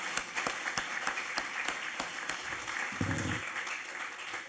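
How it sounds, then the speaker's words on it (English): An audience at a forum on combating forced labor claps for staff, a modest, fairly distant round of applause with scattered distinct hand claps and a brief low rumble partway through. "Let's just give them a round of applause."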